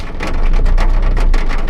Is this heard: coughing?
no